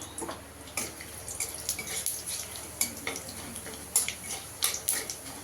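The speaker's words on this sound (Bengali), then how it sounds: "গোটা জিরে ফোড়ন দিয়ে দেবো" Whole cumin seeds tempering in hot oil crackle and sizzle softly, punctuated by a steady run of light metallic clinks and scrapes from a utensil against the pan.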